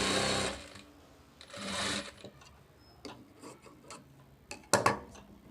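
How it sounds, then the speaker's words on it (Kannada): A sewing machine stitches a blouse front piece in two short bursts of fast, whirring needle motor, and scattered ticks and fabric handling sounds follow. Nobody talks. "ಉಲ್ಟಾ ಮೇಲೆ ಈ ಪೀಸ್ನ ಈ ರೀತಿ ಇಟ್ಟು ಸ್ಟಿಚ್ ಮಾಡ್ಕೊತೀನಿ."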